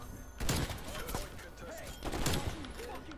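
Rapid bursts of gunfire from the video game Call of Duty Cold War crackle in uneven volleys, with voices talking over the shooting.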